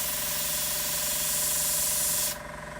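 A continuous hiss of an airbrush spraying paint onto a Saab 105 scale model kit, with a steady compressor hum beneath; the spray cuts off abruptly near the end, leaving the hum alone.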